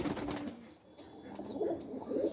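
A male racer pigeon coos in soft, low, rolling murmurs, fairly close but faint, with a couple of thin higher whistles from nearby birds in the background.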